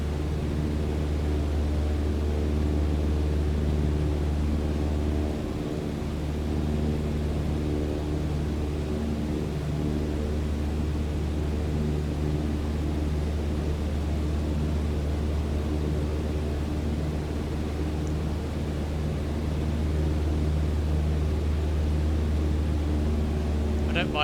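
An aircraft engine in Microsoft Flight Simulator 2020 drones steadily while climbing on a dawn flight from Guernsey to Jersey. The even, continuous hum stays loud and unchanging throughout, with no other sounds.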